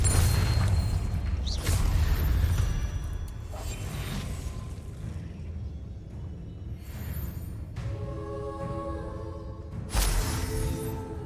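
Confringo fire spell blasts in Hogwarts Legacy, booming bursts with whooshes, a heavy impact at the start and another sharp blast near the end amid rumbling combat noise.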